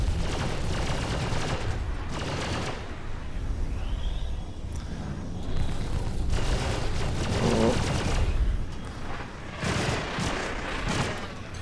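Ship guns in the Star Citizen space combat game fire in loud, rapid bursts of gunfire. The dense barrages come and go over a constant low engine rumble, with sweeping whines passing through.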